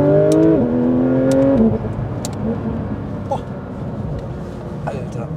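Porsche 992 GT3 RS engine droning loudly from inside the cabin while driving, with rising harmonic tones that drop at a gearshift and a noisy gearbox whine underneath.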